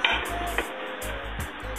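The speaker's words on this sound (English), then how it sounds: "Now give it a stir" Spoon stirring sliced onions in a pot for Genovese pasta sauce, giving a few quick scraping, clattering strokes against the pot over a faint sizzle, close and brief.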